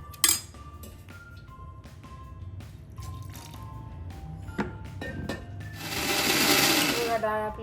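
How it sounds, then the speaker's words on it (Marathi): Kitchen mixer grinder blending soaked dal and rice into idli batter. Scattered clinks and knocks lead into a loud, steady grinding whir near the end. "अशी पूर्ण छान डाळ आणि तांदूळ मस्त बारीक करून घ्यायचे आहे आपल्याला."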